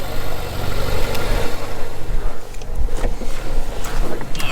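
A Ferrari 458 fitted with a race-inspired exhaust idles nearby at a private car meet, giving a loud, deep, steady rumble with slight fluctuations and a few clicks, along with some crowd noise.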